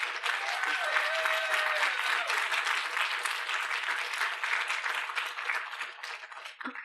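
A lecture audience at the PFA claps steadily for about seven seconds to welcome filmmaker Lynne Sachs for the Les Blank Lecture, a warm even wash of applause with no talking.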